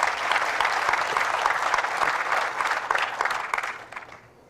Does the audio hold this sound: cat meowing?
no